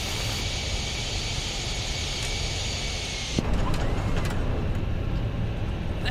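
Fenix A320 airliner rolling out after landing at Anchorage in Microsoft Flight Simulator, with steady broadband engine and reverser roar and rumble that shifts abruptly midway, continuous and fairly loud.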